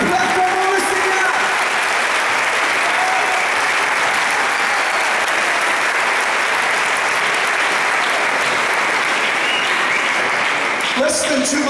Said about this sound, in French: Clap your hands to the Lord.